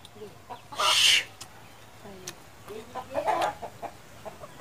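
Chickens cluck and squawk close by outdoors, with one louder, longer call near the start, then scattered softer clucks and a brief faint voice in the background.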